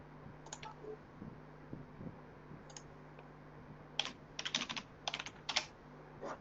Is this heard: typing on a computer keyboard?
yes